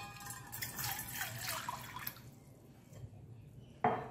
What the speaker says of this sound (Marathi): तर या ठिकाणी आपण एका भांड्यामध्ये 1 ग्लास पाणी घेऊया।